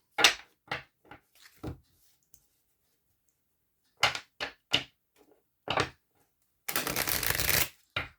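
Tarot cards are shuffled in quick riffling bursts, a few short snaps, a pause, then more bursts ending in a longer continuous riffle, close up.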